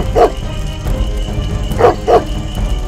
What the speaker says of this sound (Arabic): اهدأ أيها الكلب، اهدأ أيها المسكين